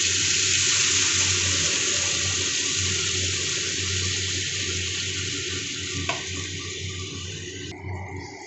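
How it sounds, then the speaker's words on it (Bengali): Water pours into a pan of fish curry with a loud, steady rushing splash that runs unbroken for several seconds, then cuts off abruptly near the end. "আমি জল দিয়ে দিচ্ছি।"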